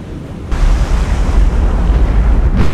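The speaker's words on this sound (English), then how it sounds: "That was a magazine explosion right off the bat." A warship's ammunition magazine blows up in the naval video game War on the Sea: a sudden loud blast that rolls into a long, heavy, rumbling roar, with a fresh burst near the end.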